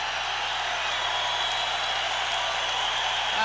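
A dense, steady roar of a hockey arena crowd during a Canadiens at Bruins NHL game, loud and sustained throughout with no distinct breaks.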